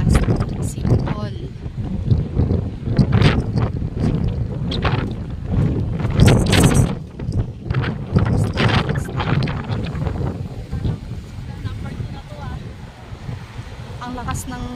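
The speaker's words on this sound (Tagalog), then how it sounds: "Ang lakas ng hangin." Strong wind gusts buffet the microphone outside Belfast City Hall, a loud, continuous roar that swells and drops throughout, with voices in the background.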